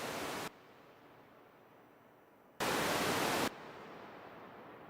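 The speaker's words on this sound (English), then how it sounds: "If you really want to hear a reverb, it's noise." White noise fed through a Eurorack reverb with the send turned up, loud hissing bursts broken by quieter stretches of decaying wash between them.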